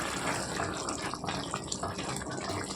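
Egg curry with tomato simmering under a lid in a pan, giving a steady close bubbling hiss that runs on its own without pause.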